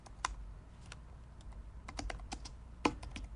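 Someone types short copyright text on a computer keyboard, producing quiet, irregular key clicks with a sharper tap near the end, at close range in an otherwise calm room.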